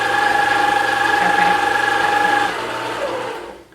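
A stand mixer whirs briefly while mixing cinnamon roll dough, a loud, even mechanical hum with a tonal whine that cuts off near the end.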